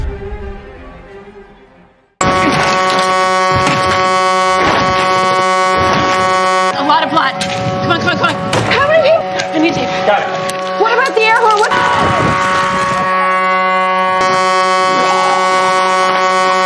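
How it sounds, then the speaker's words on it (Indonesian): A car horn blares in one long, unbroken tone during a Wolves attack on the Alexandria camp, cutting in suddenly and holding loud and steady to the end over music and other noise. "inilah penyebab suara klakson yang mengalihkan perhatian para zombie."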